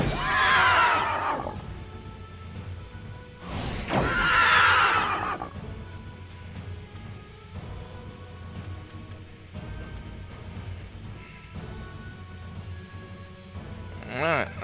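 Two loud horse whinnies from the game Master of Magic, played after a horse is zapped, sound in quick succession at the start, followed by quieter game background sounds.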